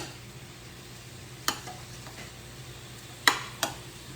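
Steak frying in butter in a pan gives a low, steady sizzle with a few sharp utensil scrapes and clicks standing out over it.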